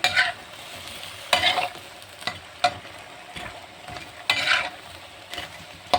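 Carrots and potatoes stirred in a pan with a utensil, repeated scraping strokes at irregular intervals over a soft, steady sizzle.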